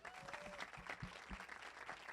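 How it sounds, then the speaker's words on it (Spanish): An audience applauds at a lecture on housing, the clapping faint and distant as scattered individual claps patter across a quiet hall. "Les pediría un grande aplauso."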